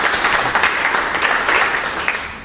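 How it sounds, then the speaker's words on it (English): A seated audience at a talk on nutrition for surfers breaks into continuous, fairly loud applause for the speaker, holding steady before easing slightly at the end. "let's give a round of applause for Roslynn."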